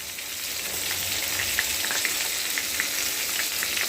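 Pointed gourd (potol), about 70% fried, sizzling in oil with nigella seeds: a steady, close frying hiss with small crackles and pops throughout, and no talking.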